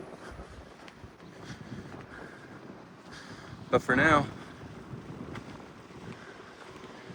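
Wind gusting across a hilltop viewpoint above a river bend near a castle in Ōzu, Japan, rumbling steadily against the microphone for the whole stretch while someone talks, with a short louder burst midway.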